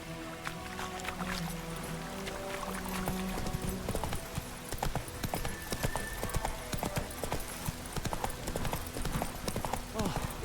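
Hooves clip-clop in a brisk, regular rhythm as a horse is ridden in The Witcher 3, close and clear, with a brief snort or whinny early on and a voice speaking over parts of it.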